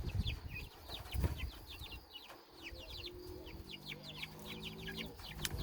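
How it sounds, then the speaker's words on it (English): Several chickens cluck and chirp outdoors in a steady scatter of short calls over a low rumbling background, fairly faint and with no voices. "There's the rest of the chickens. They're just outside doing their business."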